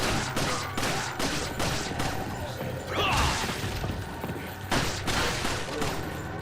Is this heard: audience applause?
no